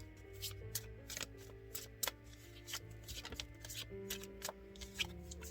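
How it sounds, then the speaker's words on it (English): Cards being shuffled in quick riffling bursts, close and soft, with brief pauses between shuffles and no talking. "Oh, that was like the worst shuffle ever."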